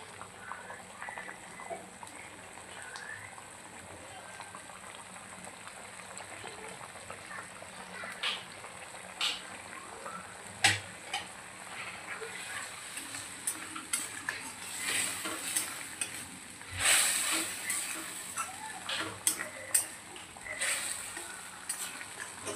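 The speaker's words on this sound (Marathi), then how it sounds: "आता याला छान आपण अशी उकळी येऊ देऊ." Masala bhindi gravy bubbles at a simmer in a pan, a soft steady burbling with occasional louder pops and stirring clinks, close and continuous without talk.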